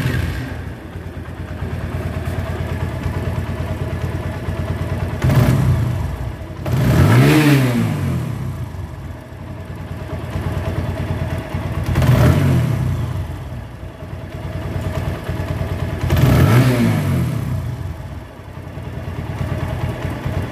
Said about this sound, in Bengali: তো এখন আপনারা বাইকের ইঞ্জিনের সাউন্ডটা শুনবেন।